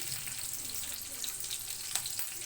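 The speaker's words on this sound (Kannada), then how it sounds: "ಎಣ್ಣೆ ಹೀಟಾಗಿದೆ ನೋಡ್ಕೊಳ್ಳಿ. ನಾನೀಗ ಇಲ್ಲಿಗೆ ಹಸಿಮೆಣಸಿನ್ಕಾಯಿ ಹಾಕ್ಕೊತಿದ್ದೀನಿ." Green chillies dropped into hot oil in a pan for egg bhurji, giving a steady close sizzle and crackle throughout, with a brief sharper pop near the end.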